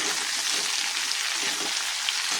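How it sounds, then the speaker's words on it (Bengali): Mixed vegetables being sautéed in a pan with ginger paste and ground spices, a constant close crackling sizzle with faint stirring, no talk. "আগে একটু সবজিগুলো কষিয়ে নিই।"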